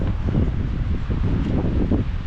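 Wind rushes steadily through tall alder trees and buffets a nearby microphone, making a loud, continuous roar with gentle swells.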